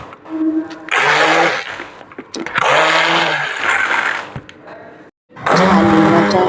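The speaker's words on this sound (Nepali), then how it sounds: "महिना दिनको छालीहरू घिउमा परिणत मैले मिक्सरको सहायताले" An electric kitchen mixer churns month-old collected milk cream into ghee in loud, close whirring bursts of about two seconds each, stopping and restarting with brief pauses between them.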